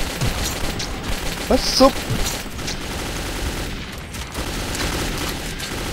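Dense gunfire in a Metro 2033 firefight rolls on as a steady clatter with booms layered in, and a man's brief startled exclamation is heard over it.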